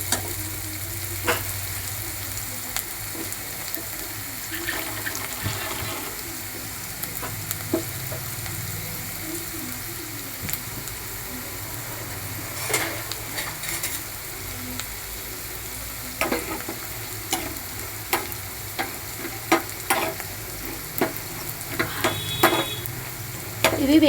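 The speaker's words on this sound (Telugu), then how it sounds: "మనం పల్లీలు ముందుగా తీసుకున్నాం కదా, వీటిని వేయించేసుకోవాలి. ఆయిల్ కొంచెం హీట్ ఎక్కేలోపు వేయించేసుకుందాం." Peanuts fry in hot oil in a pan with a steady close sizzle, dotted with sharp pops and clicks and occasional stirring scrapes, and no one speaks.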